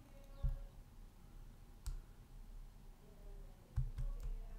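A few sharp computer mouse clicks sound in a quiet room, single and double taps spaced apart over faint background hum.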